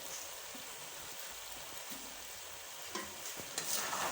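Spices are mixed into spicy chicken spaghetti in a pan on full flame, making a faint, steady sizzle with soft, occasional stirring scrapes that grow a little louder at the end.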